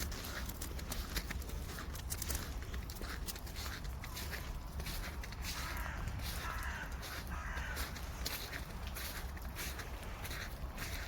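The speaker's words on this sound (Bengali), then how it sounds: "কাকের মেলা, এই ঠান্ডার মধ্যে কাক বেশি দৌড়াদৌড়ি করে" Crows caw now and then across a snowy winter scene in Frankfurt, Germany, with a steady wash of falling rain or sleet and street ambience filling the background; no one speaks.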